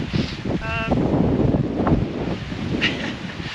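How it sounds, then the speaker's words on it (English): A blustery easterly wind on the coast rumbles across the microphone in uneven gusts, with a brief bird call and faint rustling beneath. "It is a bit windy"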